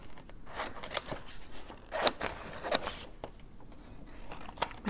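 Paper being snipped with scissors while trimming a printable magazine craft sheet, a series of crisp, close cutting crunches at an uneven pace with no talking.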